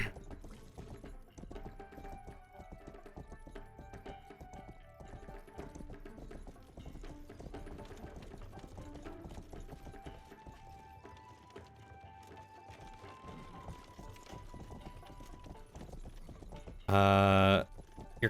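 Horse hooves clip-clop steadily in a fantasy video game, a soft rhythmic trot under faint background music, ending with a brief loud burst near the end.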